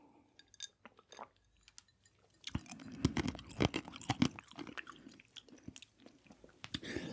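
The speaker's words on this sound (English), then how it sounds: "You guys like those crunching ice sounds?" Someone eating crunches ice in close-up, a quiet stretch of small crisp bites giving way to a denser run of loud, sharp crunches and chewing.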